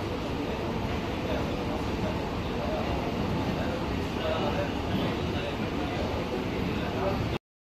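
A brand-new air-conditioned MEMU electric suburban train runs through Chennai, with a continuous loud rumble and rolling roar heard from inside the carriage and no distinct breaks.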